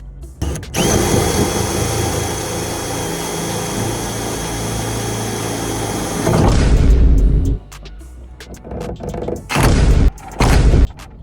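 A power drill whines loudly and steadily for several seconds, then cuts off, followed by a few short bursts of drilling and clunks.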